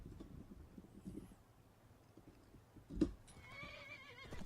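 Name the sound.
horse neighing in the video game Skyrim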